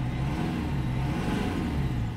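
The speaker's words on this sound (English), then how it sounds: "when I rev the engine" A Mercedes W212 E250 diesel engine is revved, giving a steady, loud low-pitched drone with a broad rumble that swells slightly and holds for about two seconds. No one speaks.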